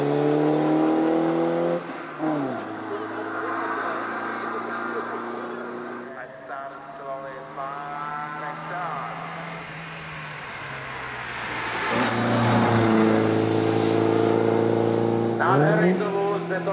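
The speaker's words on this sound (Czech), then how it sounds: "Šestilitrový motor." A De Tomaso Pantera historic race car with a six-litre engine howls loudly at a hillclimb, its revs rising and falling in long sweeps as it accelerates and shifts, with a commentator talking over it throughout.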